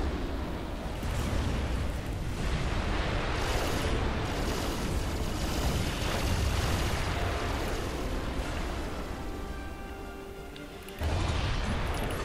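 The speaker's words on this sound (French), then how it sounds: "vous pouvez faire de grosses explosions si vous amusez un peu" Large explosions from the Supreme Commander real-time strategy game, with dense overlapping booms and rumbling blasts that sound like a continuous barrage, loud and steady throughout, with a fresh burst near the end and no voices.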